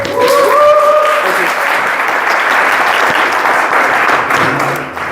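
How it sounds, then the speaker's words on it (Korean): A large seminar audience applauds loudly and steadily for about five seconds, a dense wash of clapping that fades slightly at the end, with a brief voice or tone near the start. "큰 박수 주시겠습니다"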